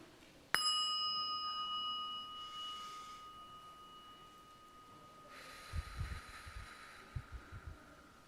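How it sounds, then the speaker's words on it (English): A single bell is struck once at a quiet gathering, giving a sharp onset and then a clear tone that rings on and slowly fades over several seconds, with soft low thumps near the end. "So I'm going to ring the bell"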